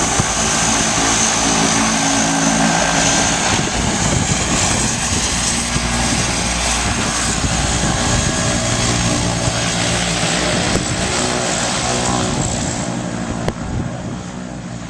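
Loud, constant droning roar of a propeller airplane engine, steady throughout and very close, with no voices audible.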